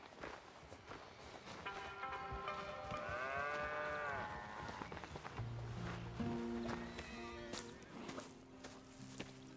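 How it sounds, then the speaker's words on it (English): Cattle moo on a ranch in Red Dead Redemption 2, several drawn-out lowing calls one after another at moderate distance, with soft footsteps and light ambient noise beneath. "Here's the cows."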